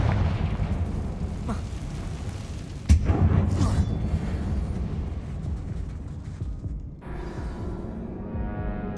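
A Confringo blasting spell detonates inside a mine in Hogwarts Legacy: a sharp blast near the three-second mark over a constant low rumble, with a later sudden drop in the background.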